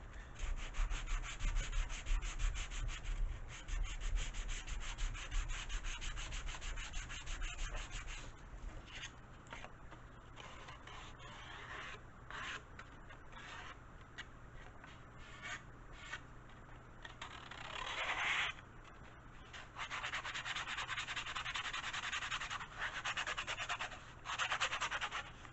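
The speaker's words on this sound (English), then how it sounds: "And we'll bevel along here as well." Sandpaper rubbing steadily along a wooden edge to bevel it, a continuous close scratchy hiss in long back-and-forth strokes with short pauses, quiet and alone.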